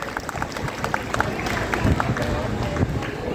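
Crowd applause at a Marwari community gathering, steady dense clapping from many hands with voices mixed in throughout.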